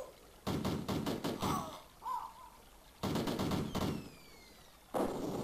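Bursts of retro gunfire from the Amiga-era war game Cannon Fodder, three loud rapid volleys separated by short gaps, with a small game effect in between and no talk.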